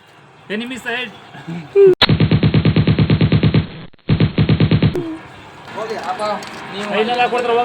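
Rapid automatic gunfire from the PUBG video game rattles out in two long, evenly spaced bursts separated by a brief gap, loud and close, with people talking before and after.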